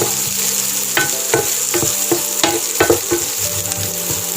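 Small shallots sautéing in hot oil in a pan, a steady bright sizzle broken by repeated sharp scrapes and knocks of a spoon stirring them, close and fairly loud with no voices.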